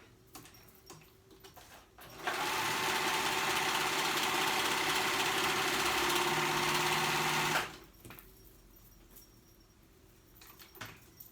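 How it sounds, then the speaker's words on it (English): Sewing machine stitching across the raw ends of a fabric skirt band to join it into a loop, a steady loud run of about five seconds between quiet pauses, with no talking. "I'm gonna sew at the ends, at the raw edges, to make it one continuous loop"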